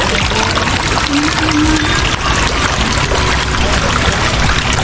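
Water flows freely from a full pipe on a calamansi farm and pours out loudly and constantly at close range, as a steady rushing splash with no pauses.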